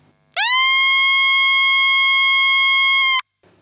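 A JAM Pink Flow guitar pedal's seagull effect sounds as a single sustained, rich harmonic tone that swoops up at the onset, holds loud and steady for nearly three seconds, then cuts off abruptly, with faint background noise on either side.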